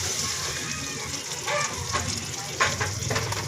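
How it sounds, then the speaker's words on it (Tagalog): Duck pieces fry in a pan with a steady crackling sizzle, loud and close, swelling in brief bursts of spattering as the oil pops, with no one speaking. "Pritong itik."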